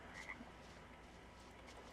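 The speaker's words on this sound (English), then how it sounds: "Oh, frogs. Look! A frog!" A frog croaks in the fantasy video game Tales of Berseria, a couple of quick faint croaks near the start over a steady soft ambient bed, with no talking.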